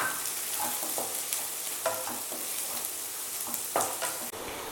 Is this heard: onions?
yes